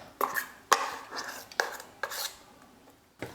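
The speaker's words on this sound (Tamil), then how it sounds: "இப்போ வேறு பாத்திரத்தில் மாற்றிக்கலாம்." A thick, smoothly ground urad dal batter is scooped from a metal vessel into another, making a series of sharp metallic scrapes and clanks at uneven intervals, heard close up without any talk.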